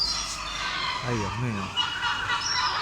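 Waterbirds such as ducks call in Venice with honking, gobbling cries over busy outdoor noise, while a person exclaims briefly.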